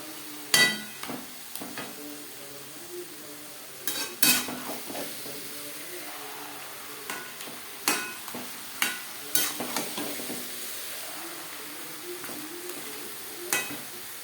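Chicken stirred and fried with fried onion and tomato for chicken kosha, with scattered clanks and scrapes of a spatula against the pan over a low, steady sizzle.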